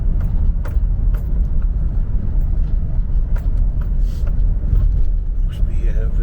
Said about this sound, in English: there's a car standing waiting to get into Roughside Hall